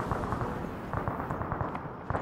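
A timed explosive charge destroys a cache in Arma, heard as a distant, rumbling blast with scattered crackling pops that fade over a couple of seconds, with no voices.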